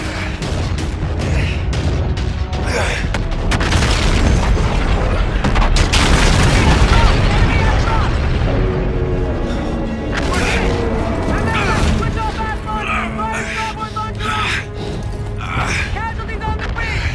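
Heavy naval ship guns booming in a Call of Duty: Infinite Warfare space battle, dense repeated blasts and mechanical clatter layered under urgent shouted commands over radio chatter, with a sustained loud barrage.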